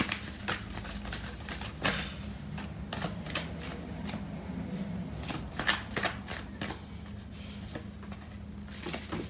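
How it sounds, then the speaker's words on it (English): Tarot cards shuffled and drawn by hand, a close run of rapid papery riffles and flicks repeating in irregular bursts over a steady soft background, no voices. "Let's find out what cards come out and what messages come through with the cards."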